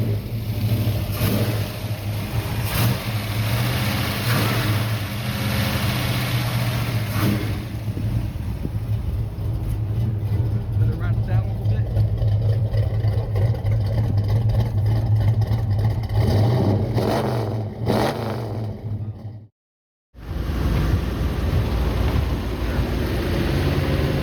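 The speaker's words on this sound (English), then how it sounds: "We're gonna hear the engine first," A car engine runs loud and close, a steady idle rumble with occasional revs, briefly cutting out near the end before resuming.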